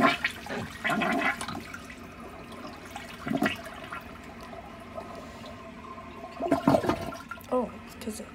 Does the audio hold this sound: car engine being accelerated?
no